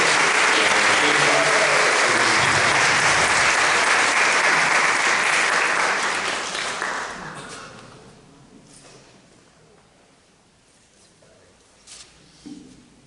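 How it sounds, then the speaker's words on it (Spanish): Audience applause for Father Marcelo, a priest speaking about Medjugorje, swells loudly for about six seconds and then fades to a few scattered claps. "Vamos a dar un fuerte aplauso al Padre Marcelo"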